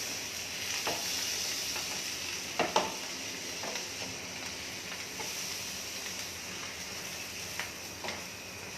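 Mutton pieces frying in butter, a steady dense sizzle with occasional louder pops and stirring clatters, close and continuous with no speech.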